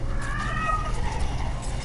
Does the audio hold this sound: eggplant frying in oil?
no